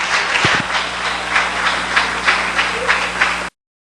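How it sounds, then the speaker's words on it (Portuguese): A church congregation claps during a worship service, a dense, steady burst of applause with rhythmic swells that fills the room, then cuts off abruptly. "Pode aplaudir o seu Deus"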